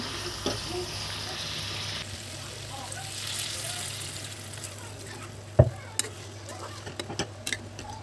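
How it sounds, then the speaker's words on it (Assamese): Lentils (dal) fry quietly in a pan, giving a faint, even sizzle with occasional sharp clicks and scrapes of stirring toward the end. "দাইলখিনি মই দহ মিনিটমান ভাজিলোঁ আৰু অলপ টাইম ভাজিম"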